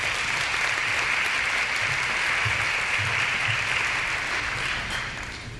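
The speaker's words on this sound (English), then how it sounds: "Again, a warm applause for the Port of Pasco." Audience applause at a regional chamber of commerce Women in Business awards event, a sustained broad roar of clapping that stays steady before easing slightly at the end.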